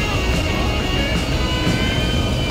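Airplane flying off in a Brick Rigs-style building game at the beach, a steady broadband engine drone holding at even loudness throughout, with no talking over it.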